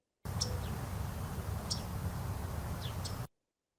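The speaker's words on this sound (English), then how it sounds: "then if I play the yellow rump warbler" A played recording of yellow-rumped warbler song: three faint, brief, high chirps at roughly even intervals over a steady low hiss, starting and stopping abruptly.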